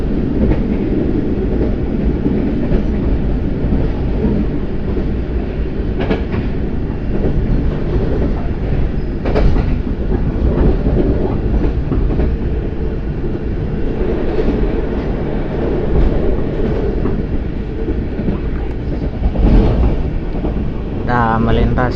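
An Argo Cilacap passenger train runs on rails near Purwokerto at about 80 km/h, heard from inside as a loud, continuous rumble with rhythmic clickety-clack of the wheels and occasional louder jolts at a junction.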